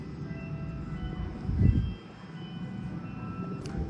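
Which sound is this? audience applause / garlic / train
train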